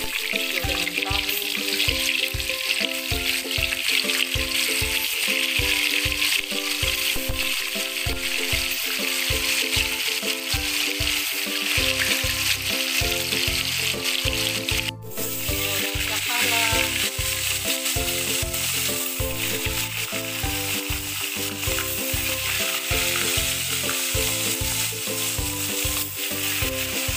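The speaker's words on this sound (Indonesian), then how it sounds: "Saya goreng tempe dengan tahu." Tempeh and tofu sizzle steadily in hot oil, a dense, continuous frying hiss that stays loud throughout with no talk over it, while music plays underneath.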